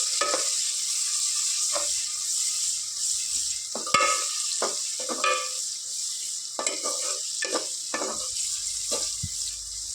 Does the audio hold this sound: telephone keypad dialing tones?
no